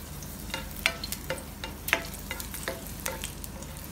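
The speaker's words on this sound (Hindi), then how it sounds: "ये थोड़ा सौते कर रही हूँ मैं" Green chillies sautéing in a pan sizzle steadily while a utensil stirs, giving scattered sharp clicks and scrapes over the constant frying hiss.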